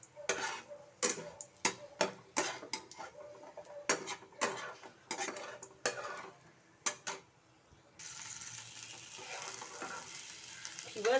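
Vegetarian cauliflower curry cooking in a pan after fried lentil dumplings are lifted out: repeated sharp clanks of utensils against the pan for several seconds, then a steady, moderate sizzle through the final stretch.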